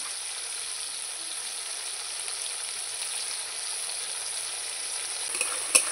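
Spice paste with turmeric and salt sizzles steadily in a pan for a chicken curry, a close, even hiss throughout with a small clack near the end.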